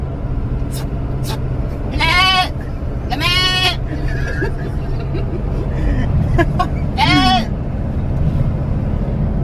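Several short goat bleats ring out, three or four separate calls spaced a second or so apart, over a steady low rumble of traffic.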